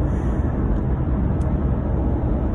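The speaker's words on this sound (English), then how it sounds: "Sorry for the car noise, everybody. I'm driving back to my place." Steady low road and engine rumble fills the cabin of a moving car as it drives along, continuous and even with no other distinct sounds.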